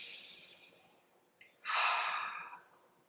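A slow, gentle breath is drawn and then released softly through the mouth in yoga practice, a close, airy exhale that swells and fades over about a second in a quiet room.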